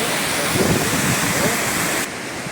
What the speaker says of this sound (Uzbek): Shamol kuchli.